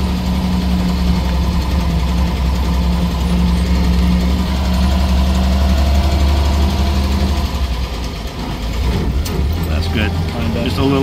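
A 1929 Chevrolet International Phaeton engine runs loud and steady while the car is driven, a low rumbling drone with a brief dip as it shifts, and people talking over it.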